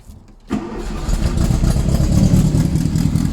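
A 1974 VW Beetle engine cranks and catches at about half a second, then settles into a steady, loud idle that runs on alone without any revving.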